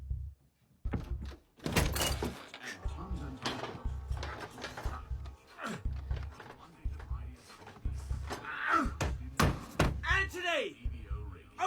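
Repeated heavy thumps and knocks on a door in an action horror movie scene, loud and irregular, mixed with raised voices and other bangs throughout.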